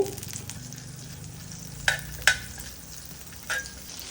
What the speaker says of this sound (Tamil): அதில் கொஞ்சமாக பட்ரு போட்டுடலாம் கொஞ்சமாக பட்ரு போட்டாச்சு